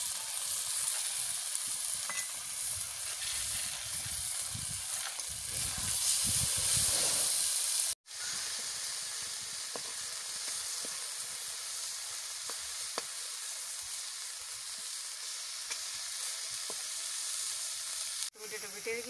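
Ground spinach paste sizzles in a hot pan while cooking an egg palak curry, a sustained loud hiss with faint stirring scrapes, cut by a brief break partway through before the frying resumes steadily.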